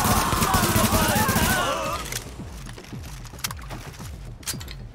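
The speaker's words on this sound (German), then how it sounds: "Schießt weiter auf sie!" Rapid automatic gunfire in the video game Tom Clancy's The Division, loud and dense for the first two seconds, then thinning to scattered, quieter shots over a low rumble.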